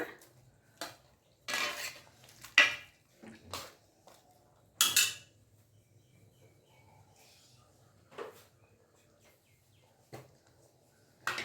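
Spoon clinks and scrapes against a pot while Malabar spinach curry is stirred, a handful of sharp metallic taps and scrapes at irregular moments with quiet gaps between, close and fairly soft.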